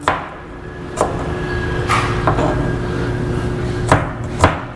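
Knife strikes on a cutting board while onion and garlic are chopped for sautéing, a few distinct sharp knocks spaced irregularly over a steady low background hum.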